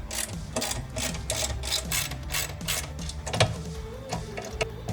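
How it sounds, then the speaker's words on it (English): A 1/2-inch socket works the side cover off a reel mower, making a quick, rhythmic run of metallic clicks and ratcheting that repeats steadily throughout at close range. "using a 1/2-inch socket, we're going to just begin by taking the side cover off"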